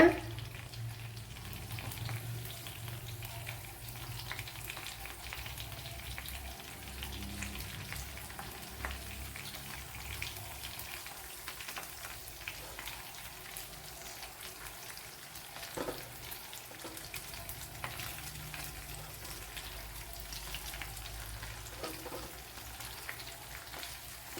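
Sardine fish frying in a pan, a continuous crackling sizzle of oil holding steady throughout with small pops and no talking.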